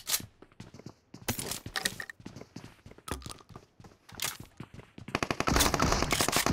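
Rapid gunfire bursts in a video game, including shotgun blasts, crack out in quick clusters with gaps, ending in a dense volley; no speech is heard.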